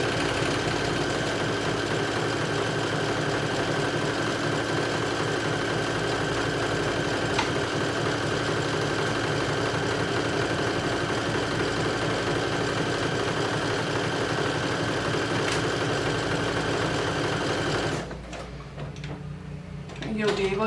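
A sewing machine runs steadily while stitching fabric semicircles into loops for a swim top, giving a continuous mid-pitched mechanical whir and hum that stops near the end, followed by a few quiet handling sounds.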